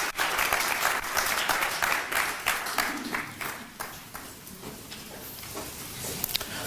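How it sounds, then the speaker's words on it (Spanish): A congregation claps for children after they present at a church service, a loud burst of many hands that gradually thins and fades, with a few scattered claps at the end. "Vamos a darles un fuerte aplauso."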